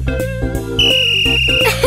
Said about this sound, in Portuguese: Ele tem um apito.